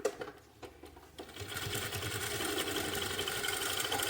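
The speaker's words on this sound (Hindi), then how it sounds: "ये देखो अब यहाँ पर एक सिलाई लगा लो ताकि लास्टिक अपनी जगह पकड़ बनाकर रखे" A sewing machine stitches elastic onto a jacket, a few short starts and then a steady, fast, even whirr that runs on without pause at close range.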